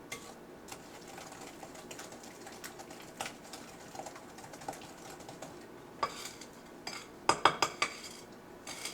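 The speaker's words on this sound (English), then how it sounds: "I am scraping the dough off of my spoon, trying not to make a mess." Spoon scraping cookie dough in a mixing bowl, soft irregular scrapes and taps at low level, ending in a few sharper clinks of the spoon against the bowl.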